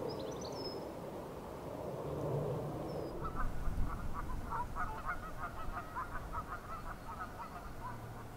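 Faint mandarin ducks call from close by on the River Weaver, a burst of rapid quacking chatter in the second half over a soft outdoor background, with a brief bird chirp early on.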